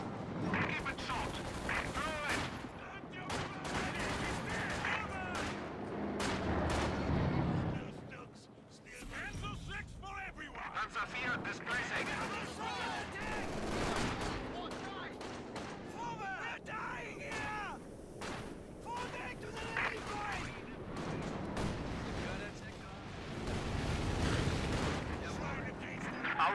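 Battlefield gunfire and artillery in Company of Heroes 2 form a dense, continuous rumble of shots and blasts, with game voices calling out over the din.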